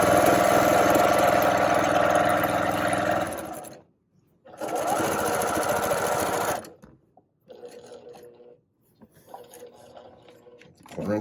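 A domestic sewing machine runs a quarter-inch quilt seam on half-square triangle patchwork in loud, steady whirring bursts, two long runs followed by shorter stop-start stitching.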